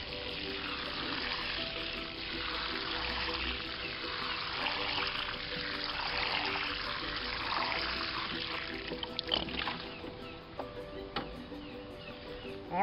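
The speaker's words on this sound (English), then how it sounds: "And now I'm going to water it some more." The soil of a potato plant is watered, a steady close splashing and trickling wash of water running without a break for several seconds, moderately loud and with no voices.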